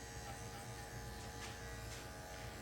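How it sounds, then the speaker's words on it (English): Electric clippers buzz steadily and close up while shaving the underside of a female Schnauzer, a continuous even hum with no talking. "I'm also going to shave her vulva."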